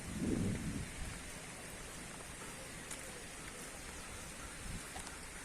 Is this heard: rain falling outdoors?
yes